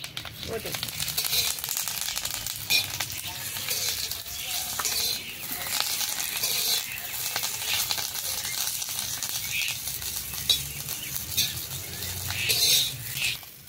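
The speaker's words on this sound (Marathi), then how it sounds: "आता मिरच्या बघा थोड्या भाजल्यात, पण ह्याच्यामध्ये तेल होती थोडं" Green chillies roasting in a little oil over a wood-fired clay stove for a spicy chilli thecha, giving a continuous, bright crackling sizzle throughout with slight swells as they are stirred.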